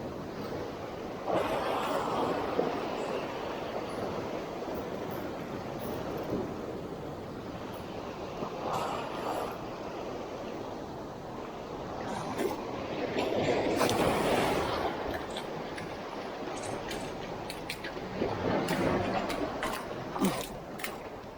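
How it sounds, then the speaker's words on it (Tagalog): Big ocean waves wash and surge around a small fishing boat at sea, a steady broadband roar with wind buffeting the microphone and louder swells every few seconds. "Grabe, ang lalaki ng alon."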